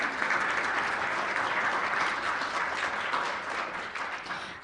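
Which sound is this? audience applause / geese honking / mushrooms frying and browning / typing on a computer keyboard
audience applause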